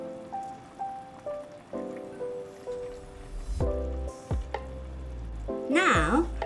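Chicken thigh meat pieces sizzle in a hot casserole seasoned with salt, a steady close crackling hiss broken by a few utensil knocks, running beneath soft background music.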